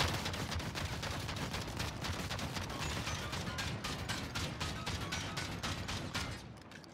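A shotgun fires repeatedly in a first-person shooter game, a fast rhythmic series of sharp blasts that continues steadily and trails off at the end. No voices are heard.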